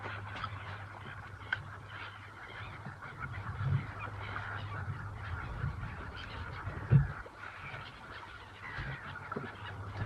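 A flock of seabirds calls over the sea off the UK coast while bass fishing from a small boat, with scattered honking cries, one sharper and nearer, over a low steady hum.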